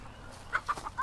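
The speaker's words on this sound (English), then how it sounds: "You go and corner a chicken." A chicken being cornered for capture with a hook gives a few short, sharp clucks in quick succession, fairly close, over quiet background noise.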